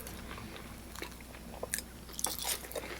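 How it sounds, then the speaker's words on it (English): Someone bites into a thick brioche bun with a crunchy cornflake crust, close-up crackling crunches coming in short bursts and ending in chewing, with a low room hum behind. "nice crunch from the cornflake"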